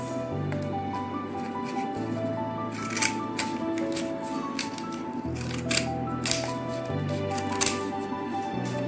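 Scissors cut out a paper picture in a children's activity: a steady run of small snipping and rustling sounds with occasional sharper clicks over a low background hum.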